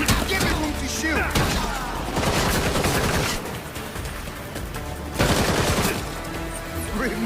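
Gunfire and blasts in the Gotham Knights video game, a dense barrage of shots and booms running continuously with music and effects, loud throughout.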